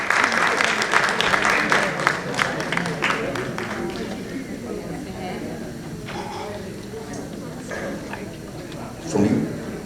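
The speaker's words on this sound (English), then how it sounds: "Big round of applause for her." Loud, close applause at an Asian Heritage Month celebration and fundraiser fades within a few seconds into crowd chatter and general hall noise.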